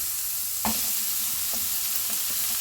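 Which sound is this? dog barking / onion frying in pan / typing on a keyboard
onion frying in pan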